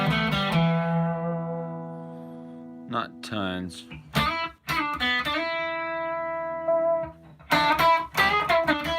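An electric guitar played through a Headrush rig with delay and a touch of room reverb rings out in sustained chords and single notes with trailing repeats, while someone speaks briefly partway through.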